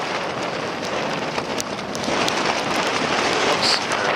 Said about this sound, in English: rain is just lovely.